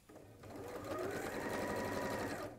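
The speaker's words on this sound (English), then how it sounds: "You're still sewing?" A sewing machine stitches in a fast, even mechanical rattle, steady and close but fairly quiet, running continuously for a couple of seconds.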